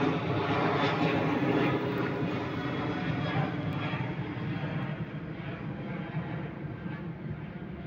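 A passenger airplane takes off from SMB 2 airport in Palembang, a steady broadband jet roar that holds strong throughout before easing slightly toward the end.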